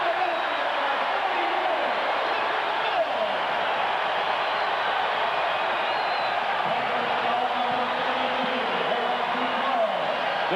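Steady roar of a basketball arena crowd cheering for the Arizona Wildcats against LSU in 1991–92, loud and continuous, with an announcer's voice running underneath.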